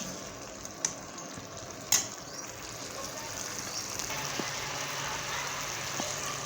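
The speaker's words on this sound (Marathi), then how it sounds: "गाजराचा हलवा सतत हलवत राहा राहावं लागते कारण बुडाला चिटकण्याची शक्यता आहे कारण ही स्टीलची कढई आहे" A spoon scrapes and stirs carrot halwa in a steel kadhai as the syrup cooks down, with soft continuous sizzling and bubbling broken by a couple of sharp metallic clinks.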